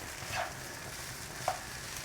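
Quinoa coated in paste is stir-fried in a pan like fried rice, giving a steady soft sizzle with a couple of brief scraping clinks from the stirring utensil, fairly quiet and close.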